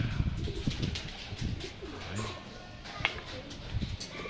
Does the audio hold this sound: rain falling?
no